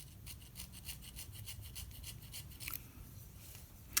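Hand scraping of an oboe-type reed, steepening the tip and working the sides, gives a dense, fine rasping that repeats in quick strokes throughout, quiet and steady, with a small sharp tick right at the end.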